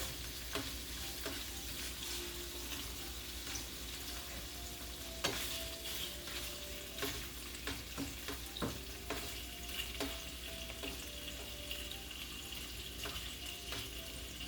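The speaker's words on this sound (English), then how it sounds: "You can hear the sizzle, right?" Steady sizzling of shrimp frying in a pan, a constant crackling hiss with scattered sharper pops and clicks throughout, close and moderately loud.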